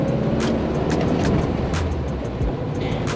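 A classic VW Beetle rumbles along while driving, its low engine drone steady under road and wind noise, close and continuous with no talk.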